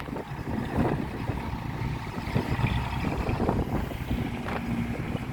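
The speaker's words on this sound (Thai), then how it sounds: "ลม แรง มากครับ" Strong wind buffets the microphone in steady, rumbling gusts outdoors, loud and continuous throughout with low roaring noise.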